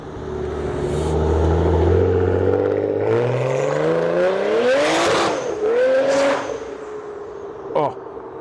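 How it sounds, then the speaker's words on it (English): A Nissan Skyline R32 on Hoonigan wheels pulls away at a car meet, its engine revving and climbing in pitch as it drives off, loud and close, with a burst of tire noise near the end. "Oh, skyline rolling out. Oh, sounds so good."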